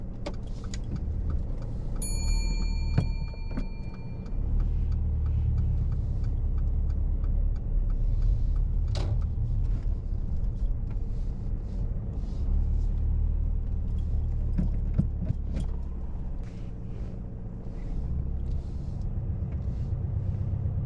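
A car reversing slowly along the kerb during a parallel park manoeuvre on a driving test, its engine a steady low rumble throughout with a brief jingle of keys near the start and no talking.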